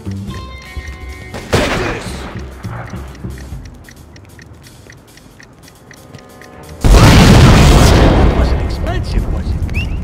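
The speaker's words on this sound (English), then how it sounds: "It's gonna explode." A loud explosion in the Godfather II video game after a fuse is set on a compound, a sudden heavy blast with a sustained roar following a smaller pop earlier, under game dialogue.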